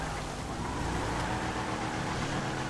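A slam van drives in the GTA video game, giving a constant loud engine roar and road noise that holds steady throughout with no pauses.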